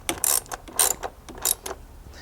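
A ratchet tightens a small 8mm bolt during a spark plug change on a 2011 Mustang GT, giving close, sharp clicking bursts in an uneven rhythm with short pauses between them.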